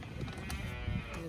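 Cattle mooing in a working pen while implants are given to the cows, low lowing bursts under a steady farmyard background, moderately distant.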